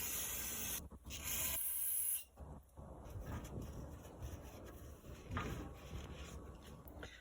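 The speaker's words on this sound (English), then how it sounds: "I'm gonna shoot it with some brake cleaner just to clean it up a little bit." Brake cleaner sprayed from an aerosol can onto a transmission tail housing bushing, giving two close hissing bursts, each lasting roughly a second, followed by softer rubbing and handling noises.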